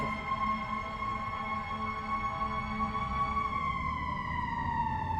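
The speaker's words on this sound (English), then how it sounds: "That's a fire truck, not an ambulance, but it could be an ambulance." Fire truck siren passing by outside a press briefing, a steady wailing tone that bends downward as it moves past, moderately faint and alone.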